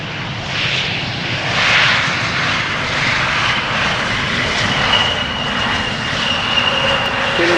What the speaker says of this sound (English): German Airways Embraer 190.